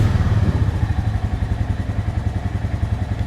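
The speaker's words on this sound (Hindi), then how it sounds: "मुझे तो काफ़ी ज़्यादा पसंद आता है रॉयल इनफील्ड का स्टॉक एग्जॉस्ट के साथ आपका साउंड" A Royal Enfield motorcycle with a stock exhaust idles close by with a deep, steady thumping beat, loud and continuous throughout.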